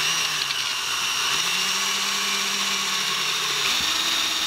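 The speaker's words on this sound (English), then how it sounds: "So let me take a small drill bit and just drill like a guide hole in here." Small drill bit boring a guide hole into a carbon battery rod, a faint steady motor whine that shifts pitch as the bit bites, continuous for a few seconds with no talking.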